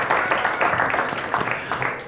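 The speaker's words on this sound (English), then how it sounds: "Yes, please clap for me for that." An audience applauds in a lecture hall at a talk on ethics and diversity in machine learning, a dense, steady wash of many hands clapping that lasts the whole stretch at moderate loudness.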